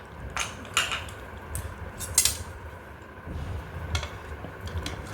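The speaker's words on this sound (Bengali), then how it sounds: "একটু চামচটা দিয়ে দেখাও কেমন হয়েছে" A metal spoon scoops through red pasta in a pressure cooker, producing a few scattered clinks and scrapes against the pot over a faint background hiss.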